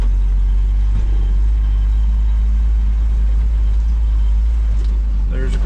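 A 1967 M715 military truck rolling down the road, a constant heavy low engine drone and road rumble heard from inside the cab, loud and steady throughout.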